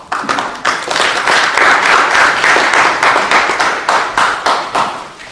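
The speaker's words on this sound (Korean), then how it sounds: "두 분께 다시 한번 큰 박수 보내주시기 바랍니다" Sustained applause from an audience at an award ceremony during an event held at the National Assembly, with dense, steady clapping that swells and then tapers slightly toward the end, loud and close.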